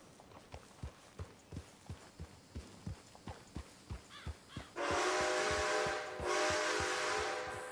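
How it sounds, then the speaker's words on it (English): A train passes in Red Dead Redemption 2, its loud, steady rumbling roar cutting in after a run of rhythmic horse hoofbeats and holding until the end, with no talk over it. "And there is a train in my way."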